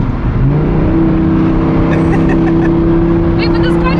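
Straight-piped, tuned Audi R8 engine droning loudly during a downshift, a steady deep roar with a rising tone that holds, then crackles and pops near the end, close and heavy throughout.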